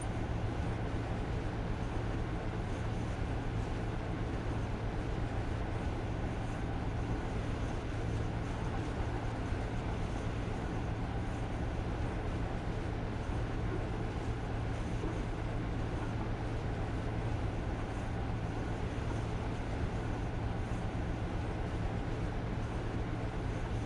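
Steady, unbroken drone of a train running on the Night Riviera Sleeper route in a video game, a low rumbling hum with a faint mechanical whir that holds level from start to finish, with no voices.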